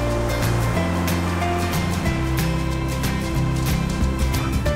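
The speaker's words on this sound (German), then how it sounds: "Einfach hier einmal das Meer." Ocean surf rolls in steadily at a beach in Sri Lanka, a loud, continuous wash of breaking waves with no voices over it.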